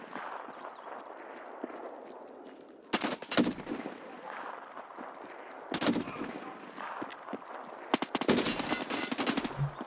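Sniper and automatic gunfire in the video game Escape from Tarkov Arena: bursts of sharp rapid shots come in several clusters over a steady background rumble, loud and close, with no talk over them.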